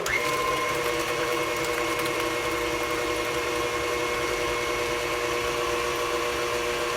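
Electric mixer beating eggs into butter for a Southern pound cake, a steady whirring motor hum running continuously at an even pitch, close and alone.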